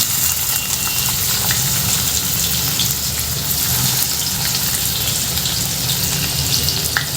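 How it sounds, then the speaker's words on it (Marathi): Cumin seeds in hot oil give off a steady, dense sizzle and crackle in a home kitchen pan, loud and close, with a few sharper pops near the end. "मध्ये तेल टाकलेलं आहे, त्यात जिरं घातलेलं आहे मी."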